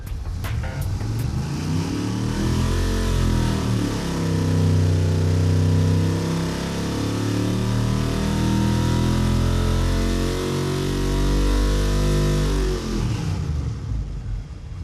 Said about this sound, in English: we're going to first baseline the motor with the standard firing order cam that's in it now